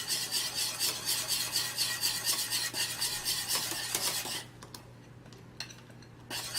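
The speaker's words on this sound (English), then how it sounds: "I just like keep stirring, and then keep on putting the porridge to it" Sorghum porridge stirred in a cooking pot, a steady rhythmic scraping and rubbing of a spoon against the pot at close range, softer and sparser toward the end.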